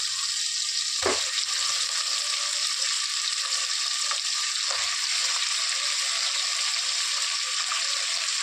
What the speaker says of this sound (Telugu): మటన్ బాగా మగ్గాలి నూనెలో.